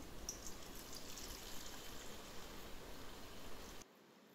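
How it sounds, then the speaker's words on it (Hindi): Whey water draining and trickling off freshly split chhena while making rasgulla, a steady watery pouring stream close by, continuing evenly and then cutting off abruptly near the end. "एबे छेनारू पानी को अलगा कर दियंतु।"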